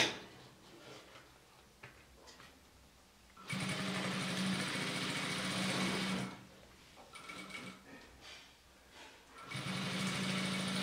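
A sewing machine stitches bias binding onto a vinyl pouch in two bursts, a steady rapid mechanical whir at close range with a quieter pause between runs and no talking.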